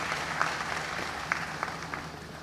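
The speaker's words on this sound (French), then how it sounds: "Je vous demande de les applaudir très très fort" Audience applause at a school-year opening meeting in Côte d'Ivoire, honouring the ministry's partners: a steady wash of clapping from a crowd in a hall, moderately loud, with a few sharper claps standing out.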